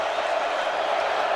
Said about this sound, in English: while this crowd is rowdy